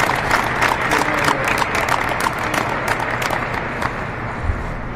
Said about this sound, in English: Just invite everybody to join me in a round of applause for all the doctors and nurses and healthcare workers.